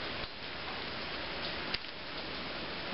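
Steady rain falling outdoors, a soft even patter on surfaces with a couple of brief sharper drips, quiet and continuous with no talk.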